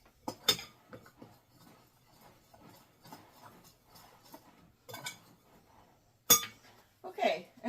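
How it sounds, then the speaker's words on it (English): A knife mixes ingredients in a bowl for strawberry rhubarb hand pies, giving scattered light clinks and scrapes of metal against the bowl, quiet and close. "I'm just going to use this knife to mix it."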